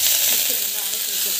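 Mustard seeds and cumin sizzle in hot frying oil, a steady, close, bright hiss with faint crackle throughout, with no one talking.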